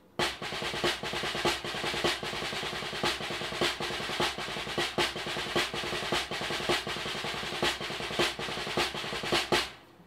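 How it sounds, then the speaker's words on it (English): A snare drum plays a repeating five-stroke roll, quick buzzing strokes ending on an accent, cycling evenly about twice a second, close and alone. "So that's our 5-stroke roll."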